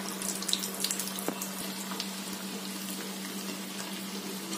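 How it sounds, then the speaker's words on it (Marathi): Bhaji, crispy fasting fritters, fry in oil over low heat, giving a steady, fine sizzle and bubbling with a few faint clinks over a constant low hum. "अशा प्रकारे आपल्याला भजीची तळून घ्यायची आहे"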